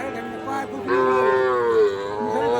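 A calf moos loudly and close by at a busy cattle market, one long drawn-out bellow that rises and then trails off, with no other sound.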